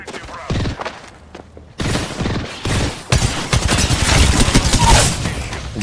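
Gunfire in the video game Apex Legends comes as dense bursts of shots and heavy thuds, growing louder and more continuous toward the end, with a player's voice over it.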